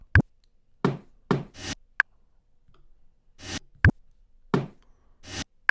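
Short percussion part in an R&B music track built from a few different sounds, with sparse knocks and clicks plus soft reversed swells, spaced irregularly and fairly close, with no voices.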